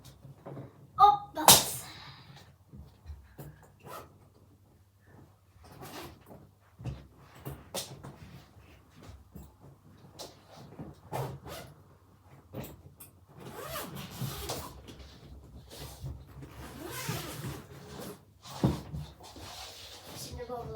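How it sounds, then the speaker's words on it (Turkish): A suitcase zipper is pulled open with a quick rasp near the start, followed by quiet rustling, clunks and handling noises from the bag being opened and its contents moved. "İlk olarak bavulu açalım."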